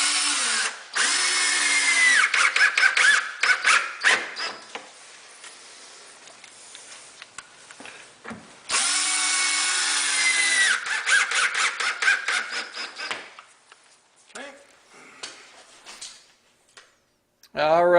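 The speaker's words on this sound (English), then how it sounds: "we're screwing very close to our hole where our hinge is going to go." A power drill drives screws into a kitchen wall cabinet in two long whirring bursts, each tailing off into short stuttering trigger pulses, loud and close, with quieter gaps between where someone talks.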